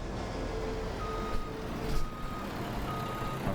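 A truck in a farming video game sounds its reversing alarm, a row of evenly spaced beeps repeating over a low engine rumble at moderate distance.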